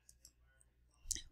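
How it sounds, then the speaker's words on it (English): Computer mouse clicked repeatedly while erasing colored areas of an image in layering software: a few soft, faint clicks early on, then one sharper, louder click near the end, with no talking. "Click on my mouse, just keep clicking."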